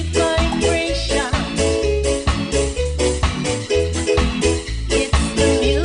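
A song plays loud and full, with a steady, punchy bass-and-drum beat under layered melodic parts, running continuously with no talking.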